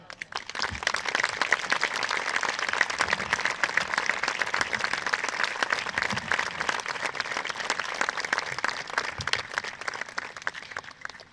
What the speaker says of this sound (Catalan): us enviem un fort i càlid aplaudiment